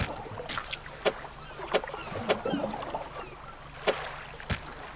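A fishing boat moves across water in the video game Dredge, with a steady wash of water and wind. Several sharp, evenly spaced knocks or clunks stand out clearly over the sound of the water.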